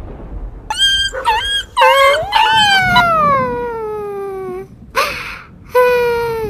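A dog gives a string of high, wavering whimpers and one long drawn-out howl that slides downward, close and loud, in separate bursts with short gaps and no talking.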